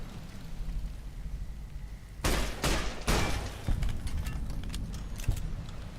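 Rapid turret gunfire in the video game Fallout New Vegas, several sharp bursts cutting in over a steady rumbling background partway through, without talk.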